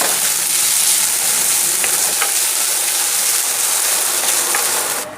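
Rice fries in ghee for kheer, a loud, dense, continuous sizzle with faint scraping from stirring, close up, tapering off at the very end.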